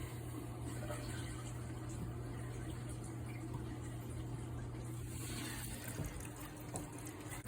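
Water runs steadily into a toilet tank refilling after a flapper replacement, a constant hiss and low hum, continuing without pause at moderate volume.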